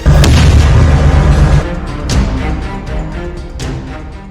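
Rocket fire and explosions over Gaza: a heavy, rumbling boom rolls for about a second and a half, then fades into a lower, crackling rumble with scattered sharper bursts.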